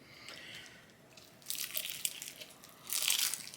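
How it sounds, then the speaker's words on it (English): Crunchy fried chicken from a local chicken place chewed close up, a couple of bursts of crisp crunching after a quieter moment. "There's a little bit of crunch."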